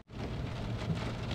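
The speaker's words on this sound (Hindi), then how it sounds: "ताइफ शहर हम विज़िट कर रहे हैं और बारिश जो है मूसलाधार बारिश हो रही है" A heavy downpour in the city of Taif, Saudi Arabia, roars as a dense, steady wash of rain with a deep rumbling undertone, close and loud.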